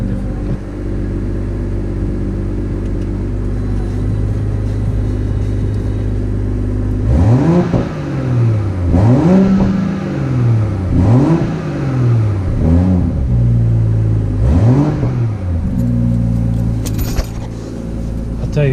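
A 2020 BMW M340i fitted with a Racechip tuning module revs in sport mode: a steady idle, then about five loud, close revs rising and falling in quick succession before settling back to idle.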